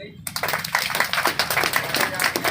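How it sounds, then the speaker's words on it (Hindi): Audience clapping at a shop celebration, a dense patter of hand claps with scattered louder claps, steady and fairly close, with voices mixed in underneath. "बजाइए ताली"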